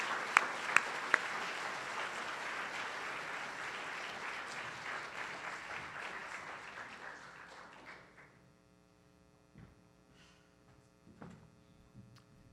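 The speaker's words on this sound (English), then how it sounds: "you guys definitely need to give her a round of applause" A conference audience applauds after a speaker is introduced, the clapping broad and sustained for about eight seconds before fading out, leaving a quiet room with faint hum and a few scattered noises.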